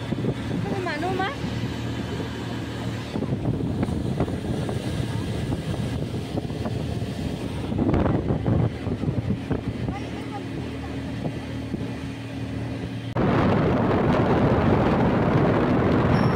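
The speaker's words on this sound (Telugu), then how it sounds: "అసలు గాలి చూస్తున్నారా ఎట్లా వస్తూ ఉందో" Wind roars past the microphone during a speedboat ride on Hussain Sagar lake in Hyderabad, a loud continuous rushing with the engine underneath that swells sharply near the end.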